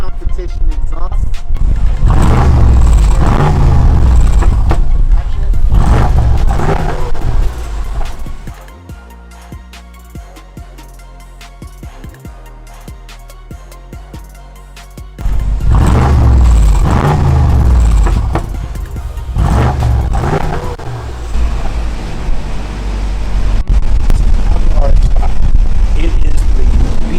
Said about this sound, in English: perhaps my favorite feature on the car is the exhaust